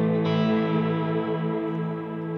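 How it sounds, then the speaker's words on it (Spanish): A sustained electric guitar chord runs through a Valeton GP-200 multi-effects pedalboard with delay engaged; the note holds loud and close, with faint echoing repeats trailing underneath, and no voices. "Puede ser que suene con el delay, que aquí lo tengo activado."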